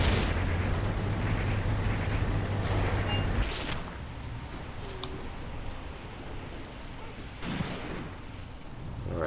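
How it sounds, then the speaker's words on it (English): Gunfire and explosions from the Graviteam Tactics: Mius-Front war game: a loud, dense rumble of battle for the first few seconds, then quieter distant booms and pops with a couple of sharper bursts near the middle and end. "let's get back to the actual gunfire here"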